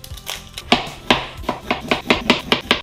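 Knife chopping a red onion on a board, a run of about ten crisp, close knocks speeding into a quick, steady rhythm, with no talking.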